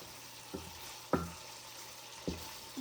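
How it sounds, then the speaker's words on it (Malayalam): Masala with curry leaves is stirred in a pan for Kerala fish curry, with three separate scraping strokes of the spoon over a low continuous sizzle, no talking. "ഇങ്ങനെ നമ്മൾ ഇളക്കണം."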